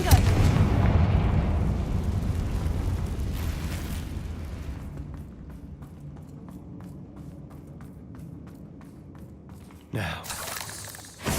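A Confringo spell explodes in the Hogwarts Legacy video game: a loud, deep, booming blast that rumbles and slowly fades over several seconds, then a second sharp burst near the end.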